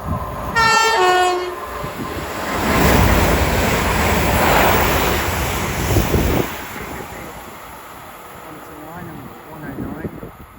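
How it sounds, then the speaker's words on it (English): A pair of London Northwestern Railway Class 350 electric trains sounds a two-tone horn at Watford Junction, then rushes past with a swelling roar and wind buffeting that fades as it moves away. "about to pass 2 minutes late will be a London North Western Railway pair of 350s"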